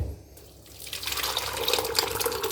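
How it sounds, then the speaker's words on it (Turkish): Lentil soup thinned with a little water is strained through a sieve, giving a steady liquid pouring and trickling sound that swells after the first second and runs on close by without speech. "Şu anda çorbamızı süzüyoruz."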